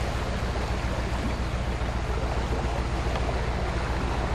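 Water gushing steadily from a feeder into a canal, a loud, continuous broadband rush filling the scene without a break.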